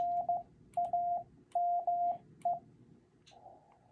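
Morse code CW tones spell out the word "name" as a single steady pitched beep, with short and long elements in clear groups over faint background hiss, followed by a softer trailing tone.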